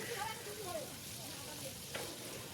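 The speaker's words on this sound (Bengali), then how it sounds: "সর্ষের তেল দেওয়ার পর তেল যখন গরম হয়ে গেল, তাহলে একে একে চিংড়িগুলো দিয়ে দিলাম ভাজার জন্য" Prawns frying in hot mustard oil give a steady, moderately loud broadband sizzle throughout, with a brief sharp clatter near the end.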